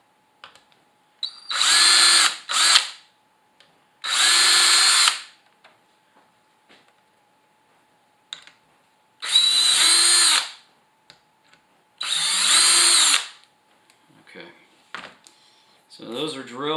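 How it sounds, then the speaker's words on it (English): A power drill whines in four separate bursts of a second or so each, drilling holes in a kitchen cabinet door, with quiet pauses between and a brief voice near the end. "And then I go ahead and drill my holes."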